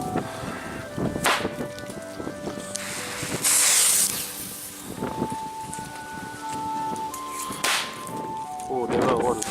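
Broekhoff Reaper fireworks launch in snowy, windy weather at a third-Advent display: several hissing, whistling launches and crackling bursts rise over steady wind noise, loud and fairly close.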